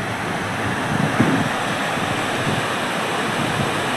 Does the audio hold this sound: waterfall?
yes